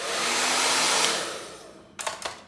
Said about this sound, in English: As you see it, hairdryer.